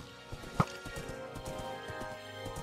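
Horse hooves clip-clop steadily in Minecraft as the horse travels, a soft rhythmic patter with one sharper, louder clop early on.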